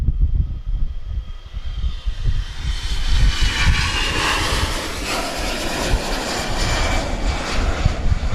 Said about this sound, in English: Next aircraft is ready to depart. This is Brussels A320-214.